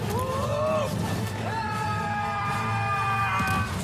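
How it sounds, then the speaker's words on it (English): A character yells and screams inside a PlayStation video game trailer. Several loud, drawn-out vocal cries rise and fall over a dense, continuous bed of music and effects. "Why are you screaming?"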